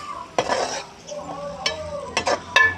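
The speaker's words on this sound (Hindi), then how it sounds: "अब इसमें शामिल करेंगे छोले। मिक्स करेंगे अच्छे तरीके से।" Chickpeas are stirred into a cooked tomato masala in a pan for Lahori chole, with a few distinct scraping and clinking spoon strokes against the pan over a quiet background, no talk.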